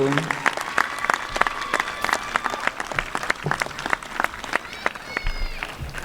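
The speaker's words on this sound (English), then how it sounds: "give them the gratitude, the round of applause" A commencement audience at a College of Medicine and College of Science and Health graduation gives a round of applause, heard as scattered, fairly distinct claps at moderate volume, with voices audible among them.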